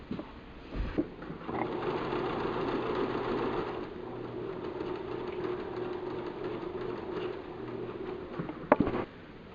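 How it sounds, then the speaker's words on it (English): A sewing machine stitches a seam in a steady mechanical whir that runs for several seconds and ends with a clunk or two. It is close and moderately loud, and no one speaks over it. "So I'm going to sew that right now."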